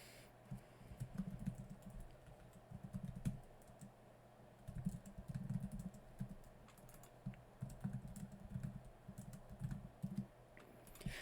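Quiet, close typing on a computer keyboard while entering text in Scrivener, bursts of rapid key clicks separated by short pauses.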